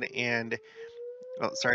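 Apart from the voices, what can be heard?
daily noon siren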